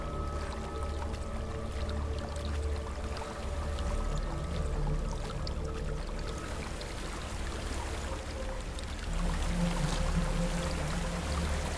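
Water flows steadily in Hellblade: Senua's Sacrifice, a continuous rushing and trickling wash over a low droning ambience, growing slightly fuller toward the end.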